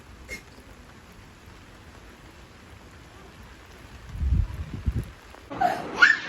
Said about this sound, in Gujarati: આજ તો ઝરમર ઝરમર વરસાદ આવે જ રાખે